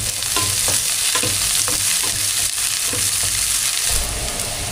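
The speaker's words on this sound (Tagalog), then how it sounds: "Gisa na po tayo ng bawang sibuyas." Garlic and onion sauté in hot oil in a pan, a steady loud sizzle with repeated scraping stirs throughout, no talking.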